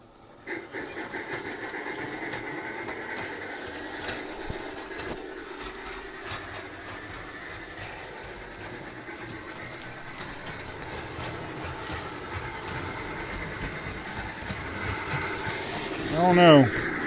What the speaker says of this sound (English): Let's see if the chuffing sounds different.